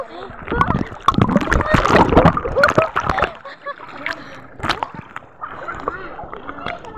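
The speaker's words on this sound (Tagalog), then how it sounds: "Ligo kami sa dagat." People splash about in the sea at a beach resort, with loud irregular sloshes and splatters mixed with close chatter and shouting voices.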